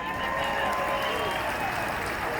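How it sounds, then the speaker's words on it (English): An audience at a late model dirt race gives a brief round of steady, distant-sounding clapping that lasts a couple of seconds, faint and without talk over it. "round of applause for Chris and Jan Davis."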